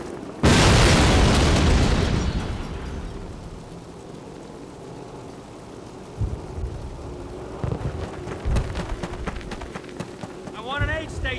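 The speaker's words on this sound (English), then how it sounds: "Plant your explosives and take that flak panzer out." Explosives blow up a flak panzer in a LEGO D-Day battle scene: a single loud, close boom with a long crackling, rain-like debris tail, followed by scattered thumps and faint voices.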